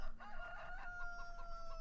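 A rooster crows once, clear and fairly close, in a chicken pen inside the Farming Simulator 17 game.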